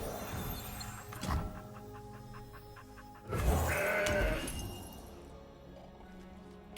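A goat card in the digital card game Legends of Runeterra gives a short wavering bleat, followed by a brief louder burst of game effects, over a quiet background with no talk.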